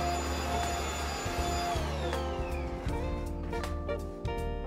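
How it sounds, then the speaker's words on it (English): A small vacuum cleaner whirs loudly up close, its motor pitch dropping as it winds down, with a few clicks and bumps near the end. "cordless vacuum cleaner"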